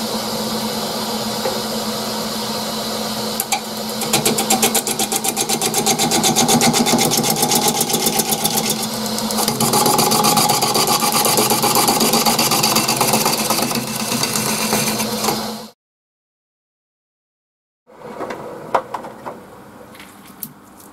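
Wood lathe turning a rough branch into a roughly five-inch cylinder for an urn, a loud, steady motor drone with rapid rhythmic chattering as the tool cuts, then silence and a quieter restart.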